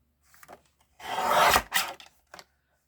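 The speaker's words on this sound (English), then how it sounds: "Now I'm going to come in here and cut 1/2 inch off of here." A paper strip is trimmed by half an inch for a slimline card, a single rasping slide of the cutter lasting about a second, followed by a short scrape and a faint click, close and alone.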